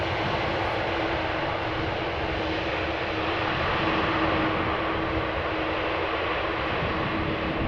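A fixed-wing airliner arriving at Amsterdam Schiphol Airport, its engines a steady, broad roar held at full loudness throughout, with no voices.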